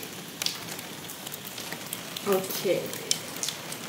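Heavy storm rain beating on a banana house in Tenerife, a steady broadband hiss with scattered patters and a brief spoken word over it.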